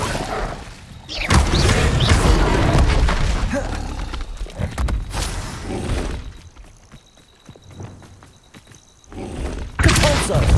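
A fire spell cast in the Hogwarts Legacy video game on PS5 erupts in loud, crackling bursts and thuds, dips to a quieter stretch, then flares again near the end.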